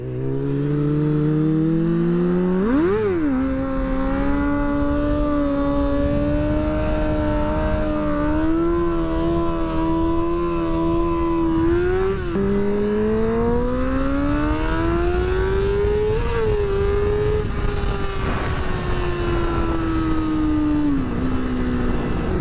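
Motorcycle engine revving hard through a wheelie on a road ride, a loud continuous roar with rising and falling pitch, sharp throttle blips near the start and again midway, no talking.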